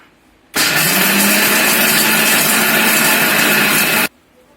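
A mixer grinder runs at full power for about three and a half seconds, grinding green chillies and peanuts into a coarse paste, with a loud, steady motor whine and rattling blades that cut off abruptly.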